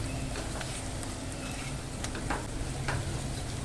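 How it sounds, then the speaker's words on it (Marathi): Malvani masala paste sizzles in oil for a dry bombil and potato curry, a thick continuous frying hiss with occasional stirring scrapes and soft taps. "आता आपण ना यात वाटप टाकून घेऊया वाटप पण ना तेलावर ना परतून घ्यायचं आहे"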